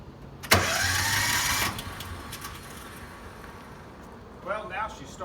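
John Deere Gator utility vehicle engine with starter trouble cranking and catching: a sharp start followed by a steady mid-pitched engine run for about a second, then fading, with someone talking afterward.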